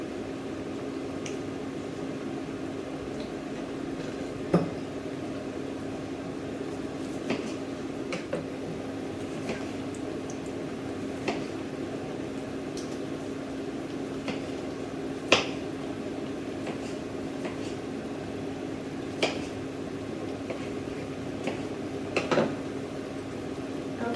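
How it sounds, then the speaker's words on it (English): A knife chopping fresh tomato on a board, giving sparse, sharp taps spaced irregularly several seconds apart over a steady background hum, with no talk. "I'm just going to chop my fresh tomato to add"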